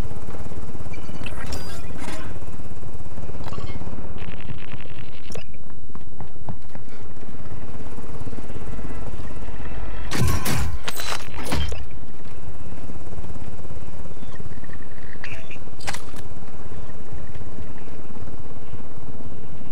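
Helicopter in the multiplayer mode of Call of Duty Modern Warfare II, a low rumbling rotor drone running steadily throughout with sharp gunfire-like bursts near the middle, no speech.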